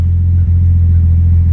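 Nissan Skyline R33 engine idling with a newly installed exhaust, a loud, close, deep steady rumble that holds evenly throughout.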